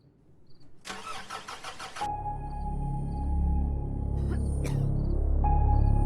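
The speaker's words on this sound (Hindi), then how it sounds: "बाबा जनरेटर स्टार्ट नहीं हो रहा।" A generator that won't start: a rapid burst of cranking, then an engine-like drone with a steady whine and some rattling, running on at a fairly constant loudness.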